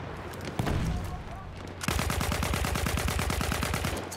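Automatic weapon fire in Battlefield 1 on a Sinai Desert conquest map: scattered distant shots give way to a loud, steady rapid burst of rounds that continues to the end.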